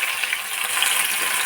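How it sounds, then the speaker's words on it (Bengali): Chopped onion frying in hot oil in a wok gives a steady, close, bright sizzle that holds evenly throughout with no voices. "এখন ওই তেলের মধ্যে আমি আমার পেঁয়াজ কুচিগুলো দিয়ে"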